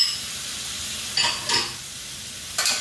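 Shrimp stir fry with oyster sauce stirred in a pot, a steady soft sizzle broken by three scraping, clinking spoon strokes.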